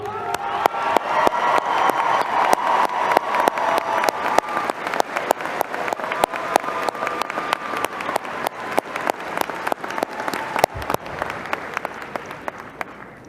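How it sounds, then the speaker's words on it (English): A large crowd at a high school graduation commencement applauds in a loud, sustained wave of clapping with scattered cheers and whoops, fading a little near the end. "let's give them a round of applause"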